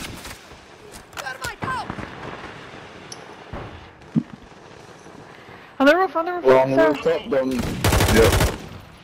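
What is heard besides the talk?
gunfire in Warzone, a video game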